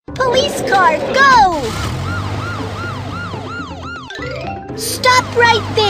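A video game police car siren wails, sweeping up and down repeatedly in loud, looping arcs, with a brief dropout near the end before it resumes.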